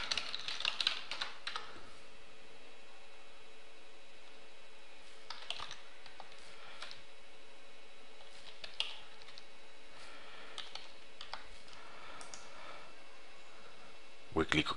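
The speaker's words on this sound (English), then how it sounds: "we type all the values" Values typed on a computer keyboard while installing software, with bursts of quick key clicks at the start and scattered taps later, quiet and close, over a faint steady hum.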